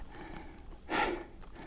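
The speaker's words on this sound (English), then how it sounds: "I know I sound horrible right now, probably, with my nose and heavy breathing." One heavy, rushing breath is drawn sharply through a congested nose during a mountain climb on an Inmotion V13 electric unicycle, close and alone against faint background hiss.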